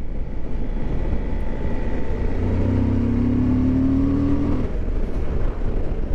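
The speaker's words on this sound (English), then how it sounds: "Nice note there from the engine." A 2021 Suzuki V-Strom 1050 motorcycle engine hums steadily while riding and briefly rises in pitch as it accelerates, with loud wind rush throughout and no talking.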